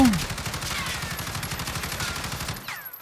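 Rapid automatic fire from an AUG rifle in Call of Duty Warzone rattles in a fast, even stream of loud, close shots, then cuts off near the end with a short ringing tail.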